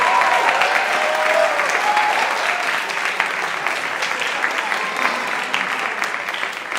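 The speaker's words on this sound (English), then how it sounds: "Can we get another round of applause to Mr." Sustained audience applause at a jazz workshop symposium honoring bassist Christian McBride, a dense, steady wash of many hands clapping close and loud for the full length, easing slightly toward the end.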